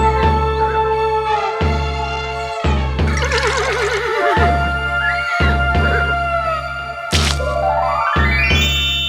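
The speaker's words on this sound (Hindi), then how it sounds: "ये वायु अश्व है, इसकी गति तुम्हें क्षण भर में पूरे ब्रह्मांड में यात्रा करा लाएगी।" A magical wind horse in an animated Hindi story neighs twice: a shaky, wavering whinny early on and a second rising one near the end, both loud over steady background music.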